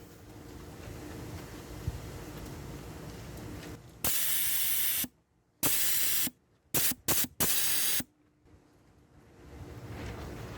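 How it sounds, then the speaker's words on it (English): Air from a 1998 Dodge Dakota rear air suspension valve hisses loudly in several sharp bursts, one long blast followed by short on-off spurts, each cutting off abruptly to near silence. "hopefully those are the ones that air's blowing out"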